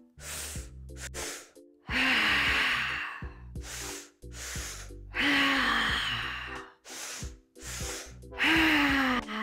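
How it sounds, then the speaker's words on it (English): Deep breaths during a guided breathwork exercise: slow audible inhales followed by long, forceful exhales out through the mouth, close and repeated in a steady cycle, with no speech. "And exhale out your mouth."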